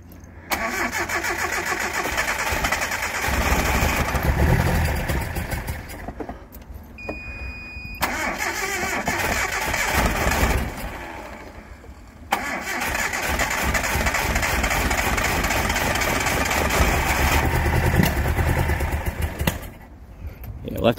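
A Datsun 720 ute engine cranks and catches, then idles roughly and loudly before cutting out and being restarted, running steadily again; voices talk nearby throughout.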